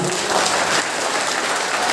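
A large crowd at a religious gathering bursts into steady, dense applause, a continuous wash of many hands clapping close by with no pauses.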